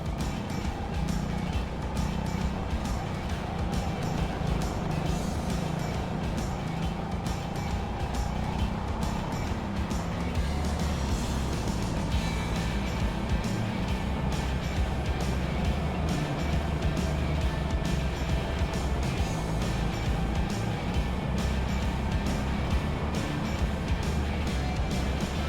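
Go-kart engines buzz continuously around the small Trappes circuit, a steady moderate drone that rises and falls slightly without any talk.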